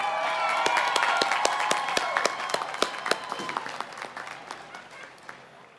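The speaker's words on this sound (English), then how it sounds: "Please, another round of applause for Laura Pluth." Applause from a college commencement audience for a graduation ceremony of an environmental design class, a dense crowd clapping that rises then gradually thins and fades with scattered individual claps near the end.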